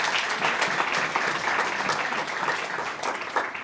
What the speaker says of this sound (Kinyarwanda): Komera Imana amashyi menshi cyane.